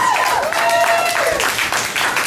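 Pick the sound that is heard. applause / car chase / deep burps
applause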